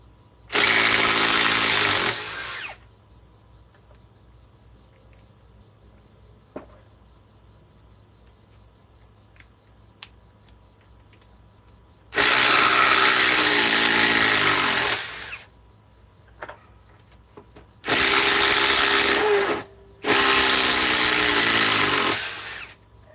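A Ridgid power impact tool removing fasteners, four loud bursts of whirring and hammering, each lasting a couple of seconds, with quiet gaps between them.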